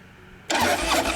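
A fuel-injected 2008 Harley-Davidson Dyna Screamin Eagle FXDSE2 motorcycle engine cranks and catches abruptly after a quiet moment, then settles into a loud, close, rumbling idle with no talking.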